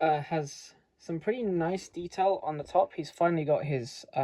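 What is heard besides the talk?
No distinct noise like a dog, phone or traffic.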